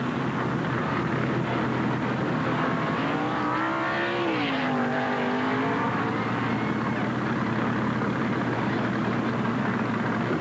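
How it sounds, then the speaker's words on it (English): In-car recording from a Hardee's Oldsmobile race car crashing during the 1988 Busch 500 NASCAR race: a loud, steady engine roar fills the whole stretch, its pitch dipping and swelling midway as the car loses speed in the collision. "And here's the crash from the in-car."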